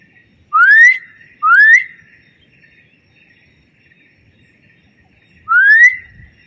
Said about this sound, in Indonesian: itu suara primata, kayaknya itu dari jenis oa.